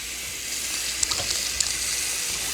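Water runs steadily into a sink while a cured pork butt is scrubbed, a continuous bright hiss with a few faint knocks and splashes on top.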